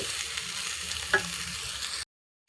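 Cut broccoli sautés in oil with masala, a steady close sizzle and faint stirring for about two seconds before it cuts to silence.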